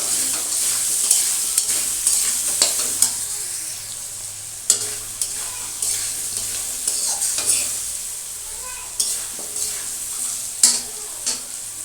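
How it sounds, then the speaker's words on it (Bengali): Hilsa fish frying in oil with turmeric and salt, a steady bright sizzle running throughout, punctuated by repeated scraping and stirring strokes of a utensil in the pan, close and continuous. "ভেজে দিচ্ছি এবার আমি হলুদ আর এতে পরিমাণ মতো লবণ দিয়ে দেবো দিয়ে এটা ভালো করে আবারও লাল করে ভেজে নেবো"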